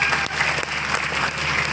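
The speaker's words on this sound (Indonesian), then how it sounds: "Tepuk tangan untuk Ali Murtopo." Applause from an audience at a school exhibition stand during a governor's visit, a steady dense wash of clapping filling the whole stretch at close range, with no talk over it.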